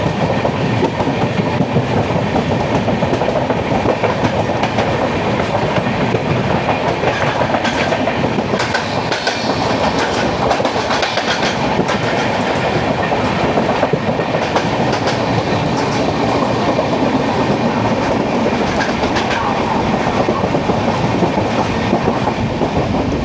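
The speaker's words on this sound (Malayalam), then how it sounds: "ഇത് പൂനെ എറണാകുളം സൂപ്പർ ഫാസ്റ്റ്." Pune–Ernakulam Superfast Express train passing, a loud continuous rumble with steady clickety-clack of wheels over rail joints, heard close and unbroken throughout.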